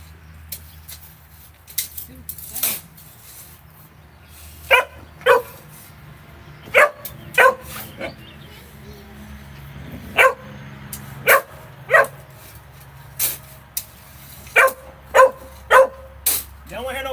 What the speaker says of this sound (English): Y'all don't want to hear no barks in the video, Qatar?